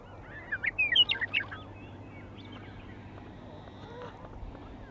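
A meadowlark sings a brief, bright warbling phrase in the morning at Frank Lake near High River, heard once near the start over a steady low background hum.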